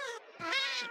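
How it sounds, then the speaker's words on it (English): A cat gives two whining meows, a short one followed by a longer, drawn-out cry, close and fairly clear with no talk over it. "Oh, shut up, cat. I don't want to hear you whining."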